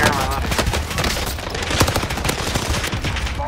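Dense, rapid gunfire in Warzone on the Fortune's Keep map rattles continuously from enemies above, with shots packed close together. Talking is mixed in with the firing.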